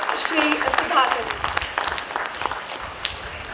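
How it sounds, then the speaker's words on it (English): Audience applause at a college sports day event, a dense burst of clapping sustained throughout, moderately loud, with faint voices mixed in underneath. "Again, please, a big round of applause for Shri Sudhakar."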